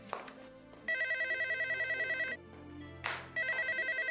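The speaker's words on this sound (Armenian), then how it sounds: "հեռախոսի պատասխանի" A telephone rings in two long electronic trills separated by a short pause, loud and close, with no one speaking.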